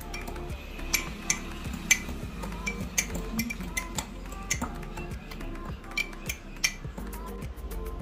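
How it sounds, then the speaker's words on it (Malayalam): Ripe banana being mashed in a bowl for a protein shake, with a steady run of sharp metallic clinks and taps of a utensil against the dish, close by and fairly loud. "ഇതിൽ നമുക്ക് നല്ലോണം ഇട്ട് ഉടച്ചെടുക്കാം."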